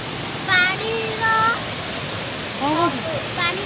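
Waterfall at Gundichaghagi in Keonjhar, a broad steady rush of falling water close by, with several short voices and whistle-like calls breaking over the continuous roar.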